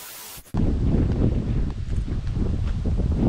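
Heavy wind buffeting the microphone at a windswept coastal beach, a loud, steady roaring rumble that starts abruptly after a brief quiet moment and continues unbroken with no voices.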